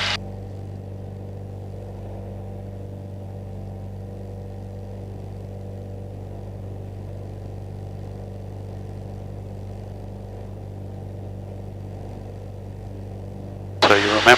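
A light training aircraft's piston engine drones steadily in flight during a climb, a loud continuous hum with a strong low tone that holds unchanged throughout, ending in a brief burst of louder noise.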